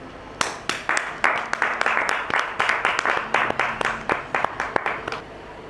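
An audience in a church gathering claps in welcome for a pastor, a sharp uneven round of applause from a modest crowd that swells and then thins out over several seconds.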